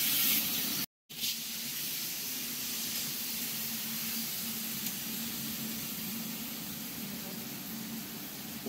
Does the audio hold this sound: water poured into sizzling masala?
yes